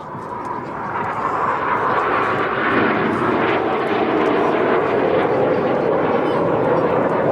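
RAF Red Arrows jets sweep past at the Blackpool airshow, a loud, swelling roar that builds over the first second and then holds steady and close, with a commentator's voice running underneath.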